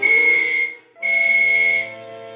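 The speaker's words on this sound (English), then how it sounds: "I waited for the whistles to signal all clear." Two sustained, piercing whistle blasts signal the all clear, the first cutting off briefly before the second rings out steady and loud, then fades to a lower hum.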